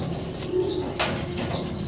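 Pigeons kept in a loft give soft, low, rolling coos close by, with a faint brief flutter, and no talking.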